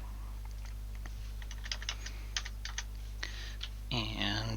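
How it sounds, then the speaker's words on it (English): Typing on a computer keyboard, with scattered quiet key clicks in irregular bursts over a steady low hum, followed by a brief stretch of denser, louder sound at the end. "given how poorly I'm typing today"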